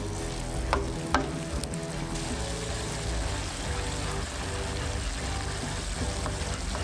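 Onion and garlic fry in a pan over a grill fire, a dense continuous sizzle with a few sharp clinks of a utensil stirring early on, close and steady with no speech.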